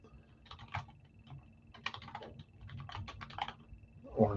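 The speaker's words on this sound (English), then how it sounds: "I'll type up the list now." Quiet, uneven bursts of keystrokes on a computer keyboard, a few quick clusters of taps with short pauses between, close and soft, with no talking over them.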